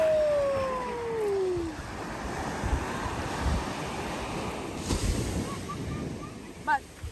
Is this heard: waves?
yes